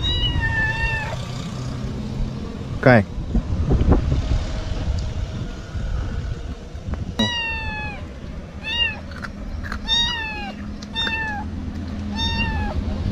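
Cats meow repeatedly outdoors on a trip to the Konkan, a string of loud, close drawn-out mews in the second half, over wind noise and a brief spoken word.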